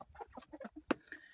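Backyard chickens clucking as they peck at fresh greens on a small farm: a quiet run of short, soft clucks with one sharper call, close by.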